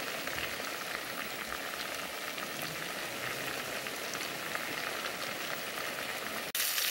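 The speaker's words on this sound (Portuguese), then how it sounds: "Tá secando a água, aí começou a fritar agora." Chicken frying in hot oil in a pan as the water cooks off, giving a steady, even crackling sizzle like light rain that carries on alone for the whole stretch, close and fairly quiet.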